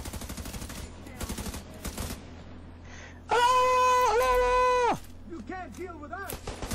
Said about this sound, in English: I'm gonna shoot this bitch first.